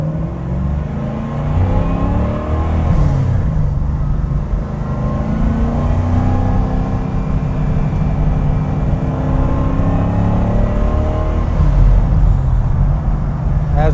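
An Aston Martin V8 Vantage's V8 engine roars steadily as the car accelerates hard, revs climbing through the gears, loud and close throughout.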